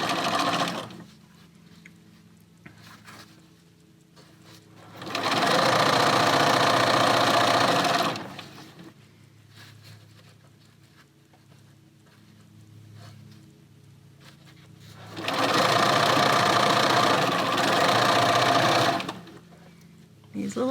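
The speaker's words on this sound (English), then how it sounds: "So now I'm going to sew this along here with a 1/4-inch seam." A sewing machine stitches a 1/4-inch seam in two loud, steady bursts of about three and four seconds. A lower mechanical hum runs between them, and brief talk is heard in the quieter stretches.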